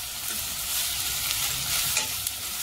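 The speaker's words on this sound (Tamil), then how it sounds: "இனி நாங்கள் அதோட கொத்தி வச்ச கத்திரிக்காய் சேர்ப்போம். இனி அதையும் நல்லா மிக்ஸ் பண்ணுவோம்." Chopped eggplant for brinjal sambal fries and is stirred in a pan, making a continuous, fairly loud close sizzle broken by occasional spoon scrapes.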